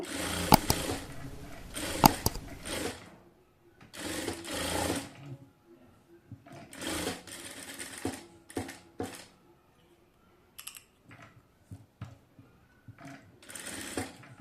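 A sewing machine stitches a designer baby frock in repeated bursts, whirring runs broken by pauses and a few short stitches, close by with no talking.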